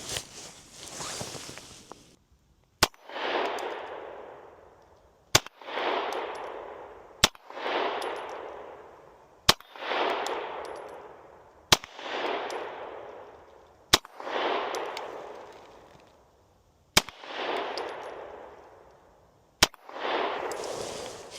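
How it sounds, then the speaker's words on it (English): Pistol shots fired at a target from 20 yards: about nine sharp, loud single reports spaced roughly two seconds apart, each trailing off into a long outdoor decay. "these are our shots that we just shot at 20 yards"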